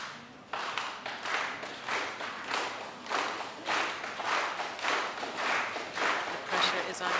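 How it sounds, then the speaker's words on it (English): A crowd at a 10m air rifle world championship final in Granada claps slowly in unison, a steady rhythmic beat of broad claps heard at moderate distance for several seconds. "Little slow clap."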